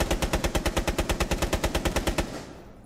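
Rapid automatic gunfire in a video game shooting through a wall: about twenty evenly spaced loud shots in a steady burst, then a fading echo tail.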